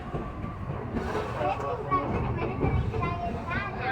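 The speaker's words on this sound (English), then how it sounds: "As we pull out of the Nairobi train station" The Serengeti Railway theme park train rumbles and rattles as it pulls out of its Nairobi station, moderately loud, with voices talking over it.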